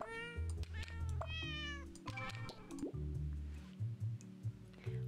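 A cat meows several times in quick succession, clear and close, over a steady low tonal background with no talking.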